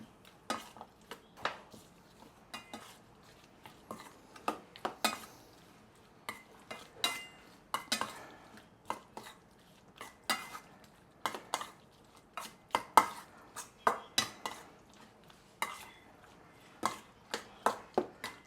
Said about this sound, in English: just mix everything nicely together